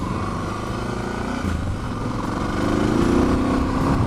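A Suzuki DR650 motorcycle hums steadily while riding, its engine drone constant and slightly swelling toward the end, with no talk.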